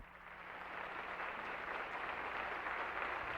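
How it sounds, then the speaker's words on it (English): Senate members and staffers applaud Senator Byrd, a dense, steady clapping from a crowd in a large chamber that swells slightly and holds, with no speech over it. "As members and staffers rose to applaud Senator Byrd"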